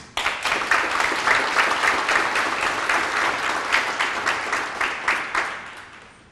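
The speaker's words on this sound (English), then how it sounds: "give him a nice round of applause" Audience applause at a public safety career pipeline award ceremony, a steady, dense wash of many hands clapping across the room that tapers off at the end.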